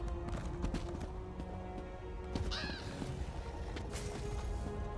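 Steady clip-clop of horse hooves in a video game, a rhythmic trot beneath background music and ambient game sounds, moderate and continuous.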